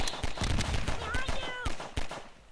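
Rapid gunfire in the game Garry's Mod cracks in sharp, irregular bursts, close and loud, with excited voices talking over the shots.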